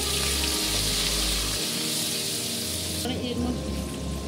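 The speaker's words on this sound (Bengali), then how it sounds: "বাকি মশলা বাকিটা দিয়ে আমি জলটা দিয়ে দিচ্ছি।" Water poured into spices frying in a pan for biryani, a loud continuous hiss and sizzle that drops away abruptly partway through.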